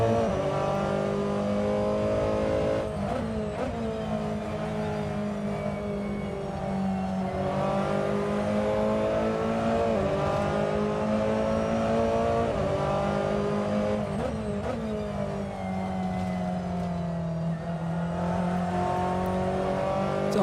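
Ferrari race car engines in a racing game wail at high revs through a six-hour race at Watkins Glen, loud and close, with pitch rising and dropping through repeated gear shifts over twenty seconds.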